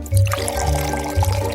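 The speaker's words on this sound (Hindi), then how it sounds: "तैयार घोल को सिरप में डालें।" A prepared solution is poured into sugar syrup for homemade lollipops, giving a close, continuous liquid pour with a soft splashing onset and brief gurgles.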